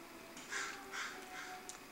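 A crow caws three times in a row outdoors, each call a harsh, moderately distant rasp with short pauses between, over a quiet background and no speech.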